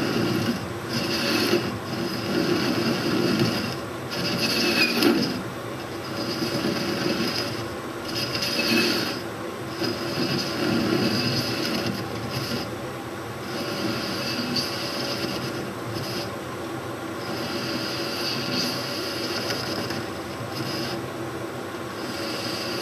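A metal lathe takes a light cut fed by the compound slide, giving a steady mechanical hum with gear-like whirring and recurring brighter scraping passes, moderately quiet and close by.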